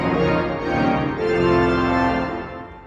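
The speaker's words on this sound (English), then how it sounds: "Yeah, so full swell sounds like this." A pipe organ plays on full swell, a dense, bright sustained chord that moves through a few harmonies at steady volume before fading.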